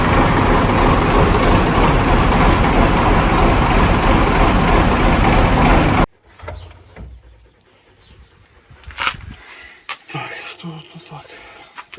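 A farm vehicle's diesel engine running as a loud, steady rumble for about six seconds, then cutting out abruptly to near quiet with scattered faint clicks and handling noises.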